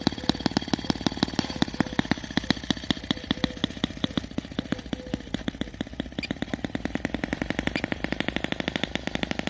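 A Deutz 122 F gasoline garden-railway locomotive engine runs close by with a rapid, sharp, regular chugging beat that holds steady and slightly quickens toward the end, with no talk.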